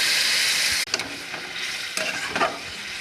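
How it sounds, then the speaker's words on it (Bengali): Banana flower curry bubbles and is stirred in a pan, a dense sizzle that cuts off briefly, then returns with scraping spatula strokes and soft clatter. "কষানো হয়ে গেছে, সামান্য পরিমাণে জল দিয়ে দেবো"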